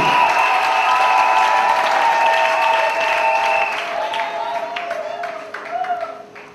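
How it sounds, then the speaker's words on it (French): A church congregation in Douala, Cameroon applauds under sustained musical tones, the clapping holding steady before thinning out toward the end. "If you monde. clap your hands"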